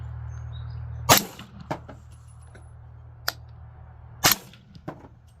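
Suppressed rifle shots from an Enfield rifle fitted with an Enfield Novus suppressor, firing 220 grain hand-loaded subsonic ammunition under a metal roof, heard as two sharp, fairly loud cracks a few seconds apart, with smaller clicks and knocks between them.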